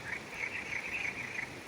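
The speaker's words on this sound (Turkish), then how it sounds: "kurbağaların sesini alacağım" A quiet, continuous trill of frogs calling at night, distant and even, with no voices.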